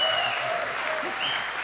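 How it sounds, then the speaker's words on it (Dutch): A live club audience applauds a rock band on stage, a dense steady wash of clapping that holds at even loudness through the whole stretch. "Mag ik dan nu een groot applaus voor mijn weergaloze band?"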